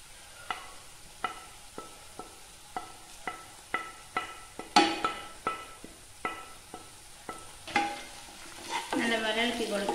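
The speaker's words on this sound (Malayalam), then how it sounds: "നല്ലപോലെ ഇളക്കി കൊടുക്കാം." Onions and spices fry in a pan with garam masala and pepper, a soft sizzle under regular sharp scrapes of the stirring spoon, about one every half second, growing busier and louder toward the end.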